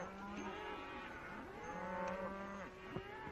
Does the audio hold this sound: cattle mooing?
yes